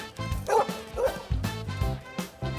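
A small dog yips and barks in short bursts at a children's birthday party, the sounds close and lively over a bed of background music.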